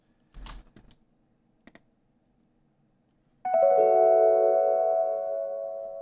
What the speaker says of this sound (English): main elements that are in here, is one of them is this low Rhodes